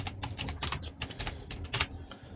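Typing on a computer keyboard, a quick run of light, close key clicks in an uneven rhythm, fairly quiet with no talking.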